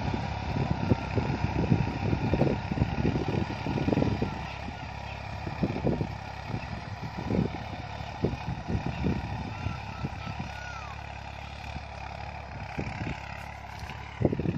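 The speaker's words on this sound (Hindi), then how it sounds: "ट्रैक्टर पूरा डेढ़ा होकर चल रहा है।" A New Holland tractor pulls a disc plough through a field, its engine droning steadily and fairly quietly throughout, with irregular bumps and thumps breaking through the hum.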